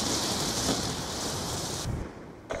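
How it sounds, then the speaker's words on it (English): Lightning strike killstreak bombardment in the shooter game Call of Duty: Black Ops 2, a loud, dense roar of rumbling blasts that holds steady, then cuts off sharply near the end. "Hostile lightning strike inbound."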